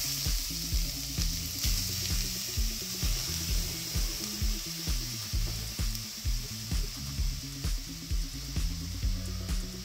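Grated carrots sizzle in melted ghee in a pan for milk carrot halwa, a steady, even frying hiss that carries on alone, with a faint rhythmic low hum beneath it.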